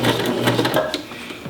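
A sewing machine stitches a curve in fabric, its motor whirring steadily and loud at close range for the whole moment, with no one talking.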